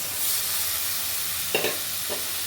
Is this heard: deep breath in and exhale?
no